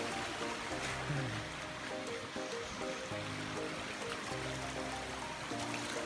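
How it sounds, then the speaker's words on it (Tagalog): A small stream flows in a steady, soft, continuous wash of trickling water, fairly faint, with a few low tonal sounds running underneath. "Maliit na sapa."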